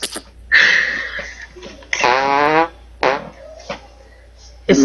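Several short, sputtering fart bursts come in uneven spurts, one longer and buzzier than the rest, separated by brief quiet gaps.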